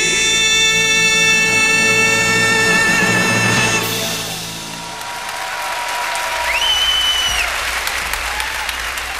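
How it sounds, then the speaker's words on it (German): Audience applause fills the hall at the 1992 Eurovision Song Contest in Malmö, a loud sustained roar of clapping that starts under fading music tones and swells again after a brief dip, with electronic tones sweeping through. "das ist der Beifall für unseren Beitrag beim Eurovision Song Contest 92"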